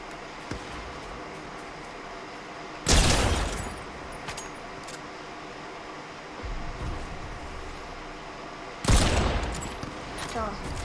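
Video game gunfire arrives in two loud, rapid bursts, one early and one late, over a continuous rumbling game background.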